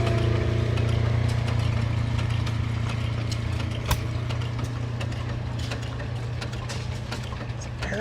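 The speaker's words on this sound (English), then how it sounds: "It's an Ericsson engine." Large Ericsson hot air engine running at a gas engine and tractor show, a steady low mechanical hum with rhythmic clicking and clanking, near and continuous, one sharp knock partway through.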